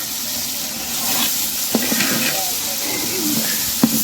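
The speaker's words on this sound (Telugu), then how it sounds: "ఓకే ఫ్రెండ్స్, ఒకసారి కలుపుకుంటాం." Garlic paste and masala fry in a pan for chicken dum biryani as they are stirred, giving a steady close sizzle with a couple of sharp spoon knocks against the pan.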